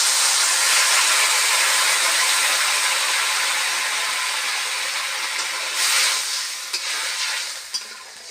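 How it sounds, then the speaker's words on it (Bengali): Loud, steady hissing sizzle as fish curry broth hits a hot pan, holding strong for several seconds, then easing slightly with a few bubbling surges and clicks toward the end, with no voices. "এখন ঝোল দিয়ে দিচ্ছি।"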